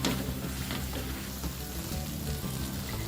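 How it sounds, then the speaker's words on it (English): Squid sambal with tamarind and fenugreek seeds being stirred in a pan, giving a loud, continuous, close sizzle of frying with faint stirring movement underneath and no voices. "Let's stir this now."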